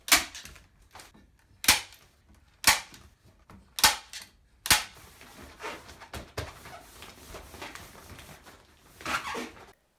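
Staple gun firing into polypropylene drop cloth plastic over a wooden shelf structure, with a series of sharp, close snapping clicks at irregular intervals and quieter handling noise between shots.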